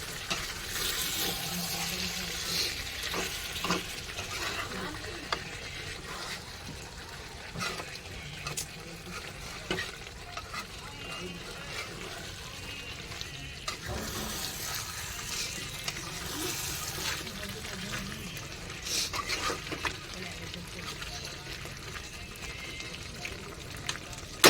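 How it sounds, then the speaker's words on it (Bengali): Chicken kosha being stirred in a pan, with steady sizzling and frying under scraping, stirring movements throughout, at close range and moderate level. "আর একটু ভালো করে নেড়ে চেড়ে দিই।"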